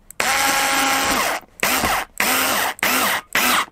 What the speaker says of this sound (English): the other one needs to come and put another screw in there